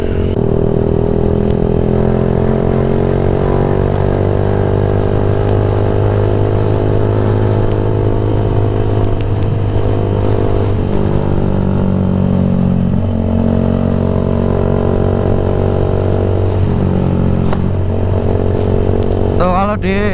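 A Yamaha MX King 150 with a fully stock engine and a Rob1 TGA exhaust idles and revs continuously, loud and close, a steady rumbling drone with slight swells in pitch throughout.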